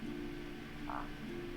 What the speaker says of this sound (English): Those frog croakings were supposed to sound like, you know, you're walking upstairs.